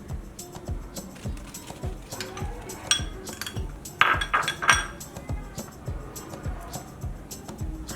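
Fried potatoes and onions being stirred into beaten eggs in a bowl, heard as repeated spoon-on-bowl clinks and scrapes in an uneven rhythm, with a few brighter metallic chimes in the middle.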